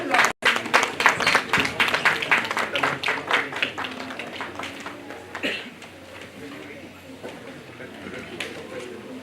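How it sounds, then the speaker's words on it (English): An audience applauds at a national conference in Meerut as a speaker is invited to the stage, with dense, steady clapping that gradually thins and fades out. "A big round of applause."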